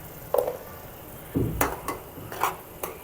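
Brief bursts of sizzling as spices hit hot oil in a pan while making a tadka, with a clatter of a utensil against metal midway; no one speaks.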